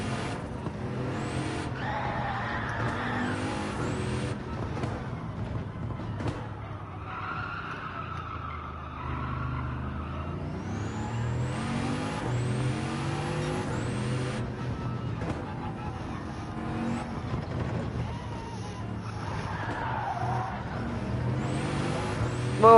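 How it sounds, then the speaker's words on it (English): A race car in Gran Turismo 7 is driven flat out and braked hard, its engine screaming through rising revs and quick gear changes, while tires squeal and skid through the corners, loud and continuous. "That's why I go full bore and test out their braking distances."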